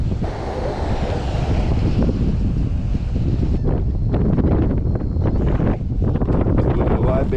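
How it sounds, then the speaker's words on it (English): Strong wind at Crystal Beach shoreline buffets the microphone in a steady roar, with gusts rising and falling and faint surf-like rushing underneath. "It's very windy, as you guys can see"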